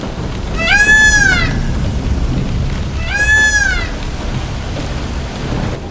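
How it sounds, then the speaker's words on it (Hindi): Heavy rain hisses steadily in an animated story, and a cat meows twice loudly over the downpour. "फिर अगली सुबह बारिश और भी ज्यादा तेज होने लगी।"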